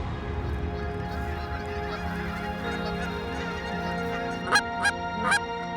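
Geese honking as they fly in toward a hunting blind at sunrise on a waterfowl flyway, a steady chorus of overlapping calls with a few louder, closer honks near the end.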